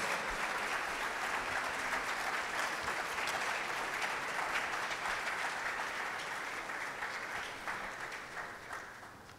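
Sustained audience applause after a presentation at an event. Dense, even clapping holds steady for most of its length, then gradually thins and fades toward the end.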